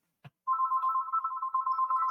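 A telephone goes off during a meeting: a brief click, then a steady, bright electronic ringtone that keeps trilling without pause.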